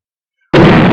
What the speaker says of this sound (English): Then explosion.